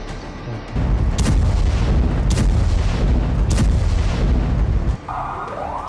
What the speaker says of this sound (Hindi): यह धमाका गाजा के अल शिफा अस्पताल से कुछ ही मीटर की दूरी पर हुआ।